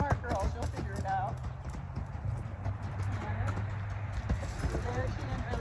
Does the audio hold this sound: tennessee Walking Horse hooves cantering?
yes